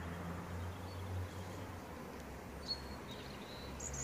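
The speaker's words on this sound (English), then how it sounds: "And hear those birds at it again." Birds sing outdoors near a garden bed, faint and distant: a few thin high chirps and whistles rise over a quiet hiss of background noise, with no talking.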